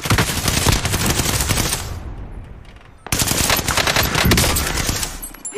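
Video game gunfire: loud sustained automatic bursts rattle for about two seconds, fade briefly to a near gap, then resume just as heavily with continuous rapid shots.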